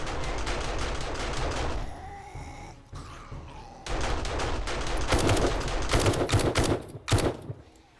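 Automatic turrets firing during zombie horde night in 7 Days to Die, rapid bursts of loud, rattling gunfire that pause briefly and then resume in dense, rhythmic volleys.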